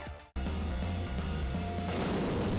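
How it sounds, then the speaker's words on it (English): An explosion in the video game Custom Robo: a sudden loud boom after a brief dip, followed by a sustained rumbling, crackling roar that holds for a couple of seconds. "Nice explosion at the end."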